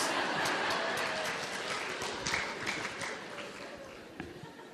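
A lecture audience at a university vegan event applauds, a broad even patter of many hands clapping that gradually thins and fades, with a few louder individual claps standing out toward the end.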